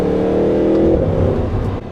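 An Audi R8 V8 engine revs loudly and close by, a steady sustained howl that holds for about a second before easing into a lower, rougher burble.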